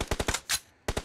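An automatic weapon fires in PUBG on the Sanhok map: a rapid burst of four close, sharp shots, a short gap, one more shot, then another quick burst.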